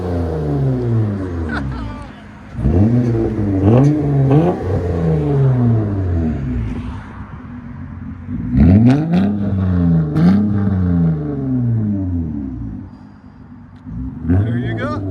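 A 2008 Honda Accord 3.5L V6 with straight pipe exhaust revs hard several times. Each blip climbs and falls in a loud, raspy howl, heard up close from outside the car.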